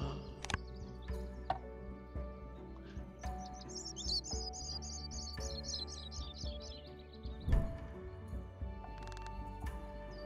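Chirping bird calls from the Wingspan video game ring out as a quick trilling phrase over a soft, steady ambient music bed, with a few light clicks and taps scattered through and no voices.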